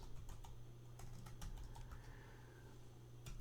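Someone types a phrase on a computer keyboard into a Microsoft Word document, producing quick, irregular key clicks in short bursts. The clicks are close and quiet over a low background hum.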